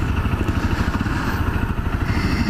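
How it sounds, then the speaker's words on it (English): A Honda CRF250L motorcycle engine idles close by, a steady, loud low-pitched chugging with a quick, even pulse and a light mechanical clatter that holds constant throughout, with no voices over it. "Out here on the Honda CRF250L."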